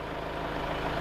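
A small tractor fitted with a grapple bucket idles with a steady, low, throbbing engine rumble, continuous and fairly close, with no talking.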